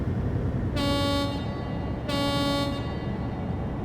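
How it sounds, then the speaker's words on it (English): Two loud blasts of a truck air horn, each about half a second, ring out over a constant low engine rumble, with no voices. "I just thought it was a tradition that you blow your horn when you go through a tunnel"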